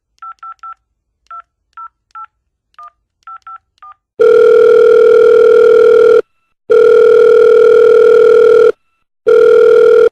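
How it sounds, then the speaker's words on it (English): A telephone dials out to Okinawa, Japan: a rapid series of short touch-tone beeps, then a loud, steady ringback tone repeating in long bursts separated by brief silences. "let's give Brian Kramer a call in Okinawa, Japan."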